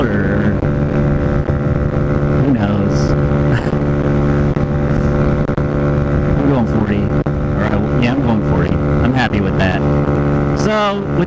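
A Honda Ruckus scooter running rough in super cold weather, its engine a steady droning hum with shifting revs heard up close throughout, with a voice talking over it.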